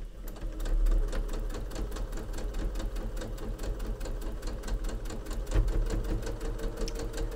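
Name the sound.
sewing machine clunking over a seam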